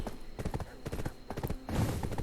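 Horse hooves clip-clop in a steady trotting rhythm while riding in the fantasy game Black Desert Online, fairly close and moderately loud, mixed with other game sounds and a faint voice.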